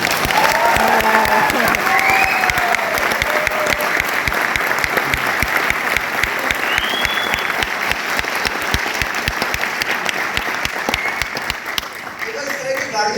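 A seminar crowd applauds steadily in a large room, thick sustained clapping with a few whoops mixed in, carrying on loudly for many seconds before easing slightly at the end.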